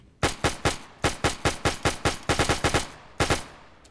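Belt-fed machine gun firing in a video game, loud sharp bursts of rapid shots in a quick rhythm, a brief pause, then a final double shot, each with a short decaying tail.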